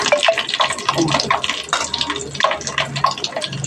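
Peeled garlic cloves drop into hot oil with curry leaves for a curry leaf kuzhambu, giving a steady close sizzle and crackle that lasts the whole moment.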